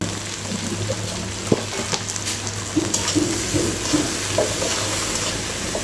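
Spices fry with vegetables and a splash of water in a pan while being stirred, a steady close sizzle broken by scraping stirs and small knocks against the pan.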